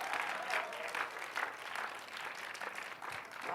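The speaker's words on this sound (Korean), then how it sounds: "박수 좀 세게 치세요" Audience applause at a Korean-language Christian teaching lecture, steady clapping from many hands lasting the whole stretch, fairly even and moderately loud without a clear peak.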